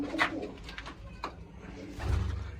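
Pigeons cooing in a Punjabi pigeon fancier's loft, with soft, low, rolling coos repeating close by. A louder, deeper coo comes near the end.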